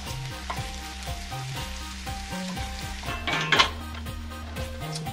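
Marinated pork sizzling in a hot pan over medium-high heat with no added oil, a steady close frying hiss under a low repeating hum, with a brief louder clatter of utensils near the middle.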